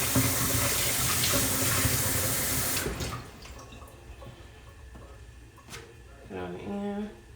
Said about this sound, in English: And the strawberry, rinse that off really good.